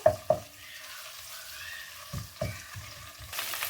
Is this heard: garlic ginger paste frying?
yes